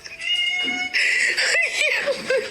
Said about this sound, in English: that cat agreeing with her meowing